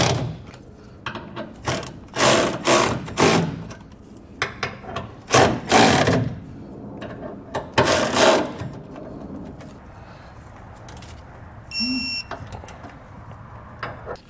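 An impact wrench snugs Allen bolts with a 7/32 key while Firestone Ride-Rite air helper springs go on a 2021 Chevrolet: several loud, rattling hammering bursts of a second or so each, then quieter handling clicks.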